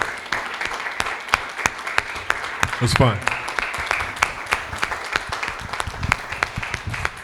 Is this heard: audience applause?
yes